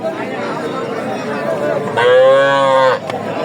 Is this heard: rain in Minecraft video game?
no